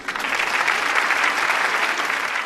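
A short burst of dense hand clapping from judges, steady and close throughout, with no talking.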